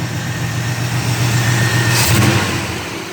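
A car engine with a leaking exhaust header idles steadily after a throttle blip, its rough mid-pitched rumble close and continuous, settling with a slight stumble.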